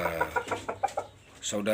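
Chickens cluck in short, quick bursts close by, a series of choppy calls with a brief pause before more clucking.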